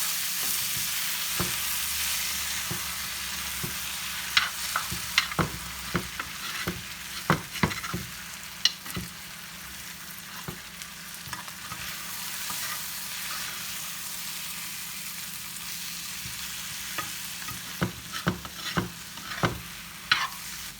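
Scrambled eggs sizzle in a frying pan while a utensil stirs them, giving repeated scrapes and sharp taps over a constant hiss. The sound is close and carries on for a long stretch with no talking.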